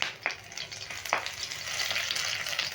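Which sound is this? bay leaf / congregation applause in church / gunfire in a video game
bay leaf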